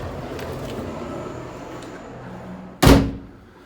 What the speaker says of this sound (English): Sorry about the door slamming.